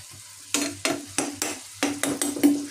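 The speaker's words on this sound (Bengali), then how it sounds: "এগুলো একটু নেড়ে ছেড়ে নিচ্ছি যাতে ভালো করে ভাজা হয়।" Spiced shrimp frying in a pan are stirred with a utensil, making about eight sharp, rhythmic scraping strokes over a continuous close sizzle.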